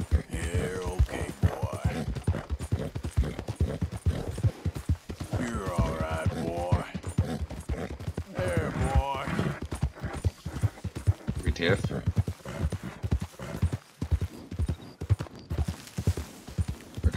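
Horse hooves clip-clopping in Red Dead Redemption 2, a steady rapid rhythm of hoofbeats running the whole time, heard close under someone speaking German.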